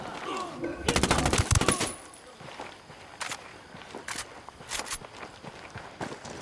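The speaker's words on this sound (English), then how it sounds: "I'm opening fire." Rapid automatic gunfire bursts loudly in Ghost Recon Wildlands, then gives way to scattered single shots and footsteps, with talk under the action.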